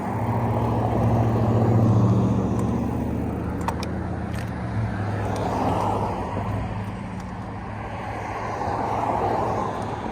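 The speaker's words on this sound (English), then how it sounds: "There's some fast moving traffic on this road" Fast-moving cars and trucks rush past an e-bike on a road in a steady, loud roar of tyres and engines that swells and fades as vehicles go by, mixed with wind noise.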